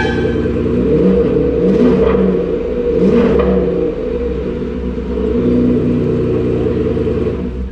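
An old Ferrari V12 engine rumbles loudly nearby, swelling in two short revs before settling into an uneven, throaty idle.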